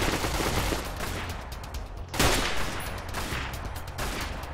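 Gunfire in Fallout: New Vegas, a video game: a dense run of rapid shots with one heavier blast near the middle, loud and close over continuous noisy game sound, with no talking.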